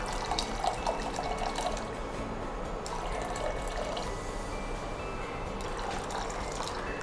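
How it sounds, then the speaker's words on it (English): Water from a tap pours steadily into a small pot holding rice, a constant close splashing fill that lasts several seconds without talk. "So to this I'm adding some water."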